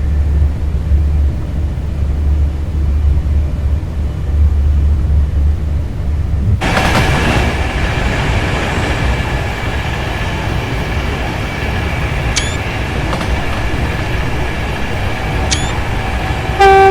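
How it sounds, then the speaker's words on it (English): Class 390 Pendolino electric train in a rail simulator game on the Stafford to Rugby line, low rumble giving way to a loud steady cab hum and running noise, with two short horn blasts near the end. "Oh yeah, I'm also using Major Wales' revamp for the Pendolino."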